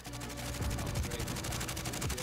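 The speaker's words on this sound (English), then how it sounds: "Someone's shooting at me." Rapid automatic gunfire rattles nonstop in Warzone, a dense, loud stream of evenly spaced shots with low thuds underneath.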